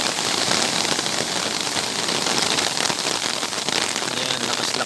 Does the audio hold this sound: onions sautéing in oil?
no